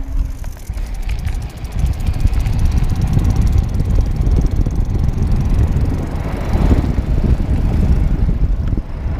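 An e-RAD 500 watt mid-drive e-bike conversion motor pulls under throttle while riding at speed, a loud continuous whirring drone mixed with heavy wind rumble.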